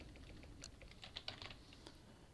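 Typing on a computer keyboard while entering a search for an iron chest in a modded Minecraft crafting menu, a quick run of light clicky keystrokes with a few louder taps, close up over a low background hum.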